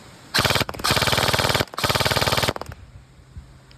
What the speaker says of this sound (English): This gun shoots at 22 rounds per second on full auto at 400 FPS.